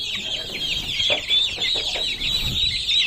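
Small Aseel chicks cheep and cluck in a busy, continuous chorus of high chirps close by, with occasional soft knocks and rustles underneath and no talking.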